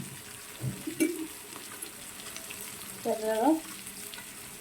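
Sea fish frying in a pan with salt, giving soft bursts of sizzling and crackling that swell briefly near the start and again later, with a few quiet words spoken.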